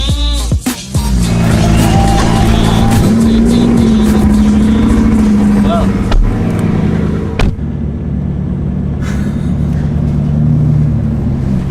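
A Bugatti Chiron's powerful engine roars steadily under load in race mode, a deep sustained drone with rising pitch, loud and close throughout.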